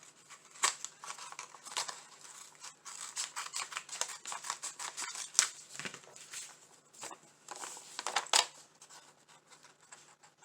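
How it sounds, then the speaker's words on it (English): Scissors cutting straight across material for a Dollar Tree Easter craft, a run of crisp irregular snips and clicks close to the microphone with quiet pauses between. "Now just take your scissors and go ahead and cut"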